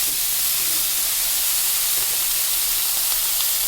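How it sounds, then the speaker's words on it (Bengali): Eggplant frying in oil with salt in a pan, a loud, even, steady hiss of sizzling that fills the whole stretch without a break. "বেগুনটা হালকা করে কিন্তু ভেজে নিচ্ছি।"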